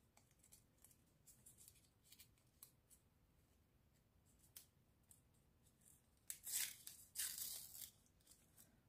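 Faint rustling and small crinkles of a paper sticker packet build into a few sharp, close tearing rips as it is pulled open near the end.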